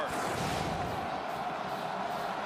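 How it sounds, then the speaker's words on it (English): Stadium crowd at a college football game between Air Force and Army cheering as a continuous, loud, broad roar with no breaks. "Crowd into it."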